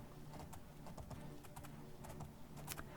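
Horse hooves clip-clop steadily at a riding pace in the video game Oblivion, a rhythmic stream of close, moderately loud hoofbeats over faint background ambience, with no voices.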